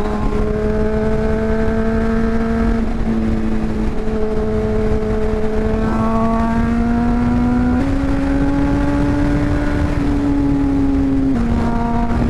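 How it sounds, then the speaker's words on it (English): A sportbike engine revs hard and close, its pitch holding and climbing in steady strained pulls with brief dips between gear changes, loud throughout with no talking. "so I had to get a little rev in there"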